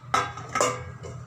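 A deep metal plate set over a pot as a lid while cooking sweet potatoes, two quick metallic clanks close together followed by a softer third tap, short and close with no talking.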